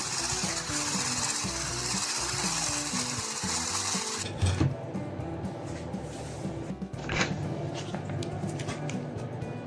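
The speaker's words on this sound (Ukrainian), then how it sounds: "перемішую блендером" A blender whirs steadily through sugar and an egg, a close, continuous motor drone that shifts pitch and load partway through.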